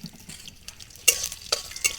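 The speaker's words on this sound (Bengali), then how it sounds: "কড়াইতে 5 ফোড়ন দিয়ে দিয়েছি" Five-spice tempering hitting hot oil in a wok, with a low quiet hiss and then several sudden bright crackling bursts up close over the last second.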